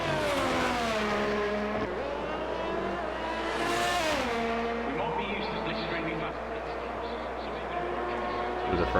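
Race car engine in a racing video game revving through the gears at the start of a lap on an Austria track, its pitch climbing and dropping with each shift, loud and close, with a commentator talking over it.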